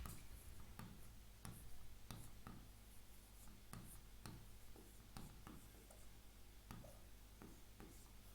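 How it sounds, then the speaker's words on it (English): Handwriting, a pen scratching and tapping out strokes in a steady irregular rhythm, close and quiet, with a faint low hum behind it. "I will write it in English."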